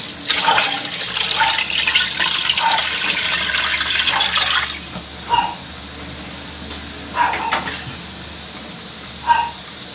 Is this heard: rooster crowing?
no